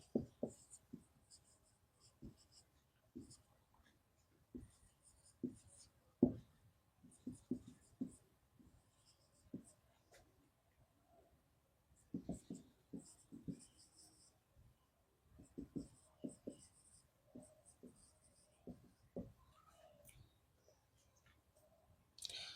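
A pen writes out an example sentence on a surface, with a string of short, quiet scratching strokes and taps in irregular bursts. A faint voice speaks now and then.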